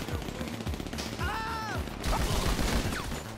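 Gunfire in GTA Online during a Los Santos Drug Wars mission, a dense, continuous rattle of rapid shots with a brief electronic tone chiming through the middle.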